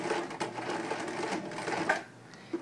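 Sewing machine stitching a hem on clothing, with a fast, steady mechanical rattle at close range that slows and stops near the end.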